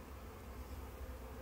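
A steady, dense buzz of many honey bees at a hive, continuous and even, fairly quiet with no voices.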